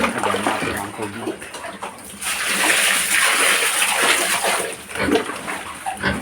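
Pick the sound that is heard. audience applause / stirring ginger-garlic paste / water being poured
water being poured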